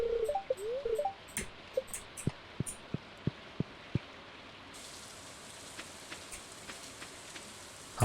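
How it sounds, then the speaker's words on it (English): Rain falling in the farming video game Stardew Valley, a steady soft patter with scattered sharp droplet ticks, faint and continuous throughout. "Gonna rain again?"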